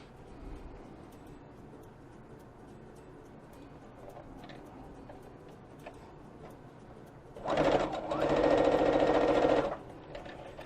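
A sewing machine stitches blue fabric for a quilt in a short, steady whirring burst of about two seconds near the end, after a quiet stretch with faint pigeon cooing in the background.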